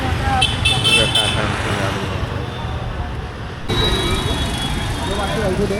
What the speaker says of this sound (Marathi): काका गाडी लावत आहेत